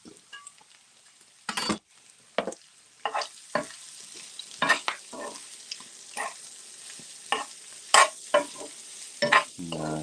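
Sisig with fresh ginger is stirred in a pan, sharp scraping strokes of the utensil repeating irregularly over a faint sizzle, close and fairly loud with no talking.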